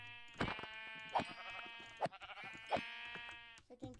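Sheep in the blocky video game Minecraft bleat repeatedly, four or five nasal wavering calls spaced about a second apart, fairly close and clear over quiet game background.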